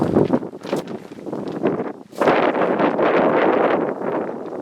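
Strong wind gusting outdoors, buffeting the microphone with a steady broadband roar that eases slightly, then surges louder around the midpoint and stays heavy.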